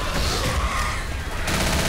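Dense, sustained gunfire from the zombie shooter game Left 4 Dead, with rapid overlapping shots forming a continuous loud fusillade that runs for the whole two seconds with no pause.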